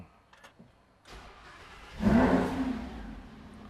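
Lamborghini Huracan LP 610-4 engine starting: a brief starter whir, then the engine catches with a loud rising bark and settles into a rumbling idle, heard from close by.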